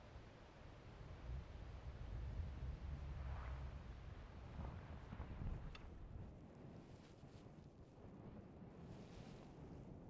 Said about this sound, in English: welcome to a very windy day 3. The winds picked up around midnight